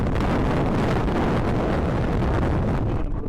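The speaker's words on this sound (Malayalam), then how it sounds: "ഒടുക്കത്തെ കാറ്റ് കേട്ടാ" Strong wind on the Koonichi hilltop during a trek, a loud continuous roar buffeting the microphone throughout, with no voices.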